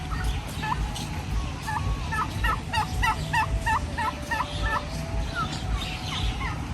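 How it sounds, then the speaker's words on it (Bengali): Fowl in a park enclosure give repeated rapid gobbling calls in bursts over a low background hum, moderately close, with faint talk nearby. "এটা হচ্ছে একটা মুরগি"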